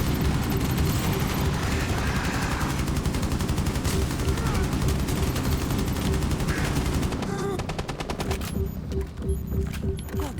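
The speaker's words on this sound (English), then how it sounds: "Detonating cluster charge." Sustained rapid gunfire fills a Rainbow Six Extraction breach, dense loud bursts layered with booms from a detonating cluster charge, then sharper separate shots ring out toward the end.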